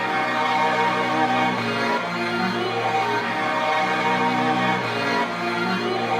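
A layered music sample for a beat sounds with one half pitched up and the other pitched down, stacking bright and deep sustained harmonic tones into a dense, steady wash at even loudness, with no talking.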